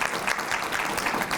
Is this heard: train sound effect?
no